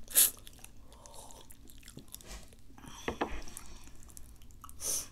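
Biting and chewing of giant Doshirak instant noodles, close and quiet, with a few soft crunches and wet slurpy bits spread across the moment, no talking.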